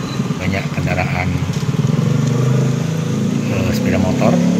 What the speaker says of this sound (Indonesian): Jalan cukup ramai, banyak kendaraan